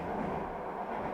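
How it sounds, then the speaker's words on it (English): A train passing by in the background, a steady low rumbling roar at moderate distance that holds evenly throughout with no talking. "That's the train going by."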